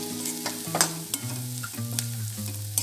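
Bread crumbs tossed into a pan for bread poha and stirred over a low gas flame: a steady low sizzle with repeated scraping stir strokes, close and fairly loud, no voices.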